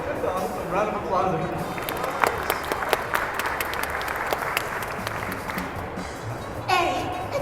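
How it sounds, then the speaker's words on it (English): A fan convention crowd applauds a panel at Nostalgia Con 2025 with Ed, Edd n Eddy voice actors, dense steady clapping and cheering filling the room, with voices and chatter mixed in throughout. "Round of applause"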